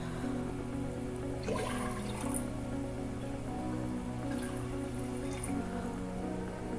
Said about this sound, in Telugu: దీనిలో ఒక 3 కప్స్ వాటర్ యాడ్ చేసుకుని